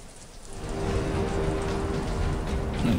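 Weeping rain falls in the horror video game Tales of the Black Forest, a steady dense hiss of rainfall with a faint low drone underneath, continuous and without speech.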